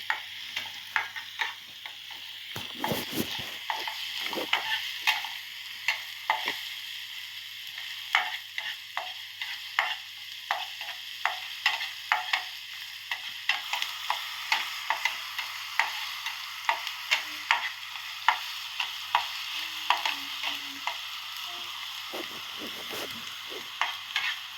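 Chopped onions sauté in a pan with a soft, constant sizzle, broken by repeated spatula scrapes and stirring knocks at an uneven rhythm, heard close with no speech.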